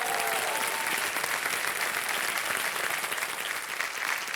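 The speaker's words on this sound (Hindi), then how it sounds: "तब तक हम आपके लिए ताली बजवा देते हैं।" Dense, continuous studio audience applause on a quiz show set, loud and even from start to finish with no talking over it.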